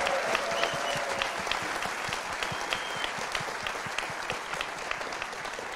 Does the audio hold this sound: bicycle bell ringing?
no